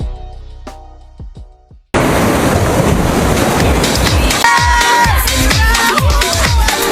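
Surf rolls in at a beach while an excited crowd cheers and shouts, a loud, steady wash of waves and voices that starts abruptly after a quieter stretch of scattered sounds.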